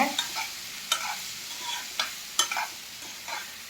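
Finely chopped plantain fries in ghee with a constant soft sizzle, punctuated every half second or so by sharp scraping stirs of a utensil against the pan, no speech.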